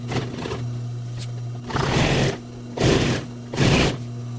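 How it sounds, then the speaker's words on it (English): Sewing machine stitching vinyl upholstery for a 1967 Triumph Spitfire MK3 interior, running close and loud in three bursts, each a second or so long, separated by a steady electric motor hum. "So we're gonna stitch this like that."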